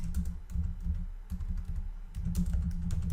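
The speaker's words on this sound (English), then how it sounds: "in the search box at the top right, type WP Super Cache" Rapid keystrokes on a computer keyboard, entering a plugin name into a WordPress search box; close, crisp clicking in quick bursts with a short pause midway, no voice.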